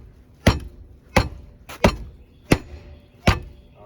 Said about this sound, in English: Let's hit it too with a hammer.